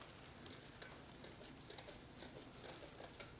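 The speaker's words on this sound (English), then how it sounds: "So I'm just going to place that here and cut it" Scissors snip through faux fur remnant for a flip flop craft, quiet regular cuts repeating at close range about twice a second with no talking.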